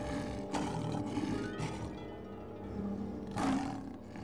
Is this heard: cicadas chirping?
no